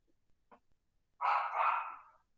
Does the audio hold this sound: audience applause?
no